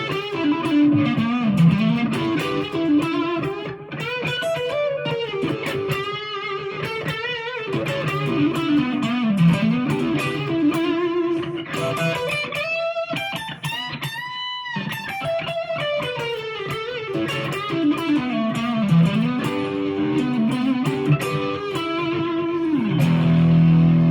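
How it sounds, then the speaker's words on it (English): A lead synth line played with a touch of reverb and a little delay, a bright, slightly distorted, gliding melody that rises and falls and runs loud and continuous with brief gaps, without talking. "with a touch of reverb and a little bit of delay, we'll get quite a nice lead sound from that"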